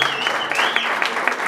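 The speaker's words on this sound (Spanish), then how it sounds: "el aplauso para el mariachi" Applause for a youth mariachi band at a quinceañera, a short burst of crowd clapping with a sustained high tone running underneath and voices faintly mixed in.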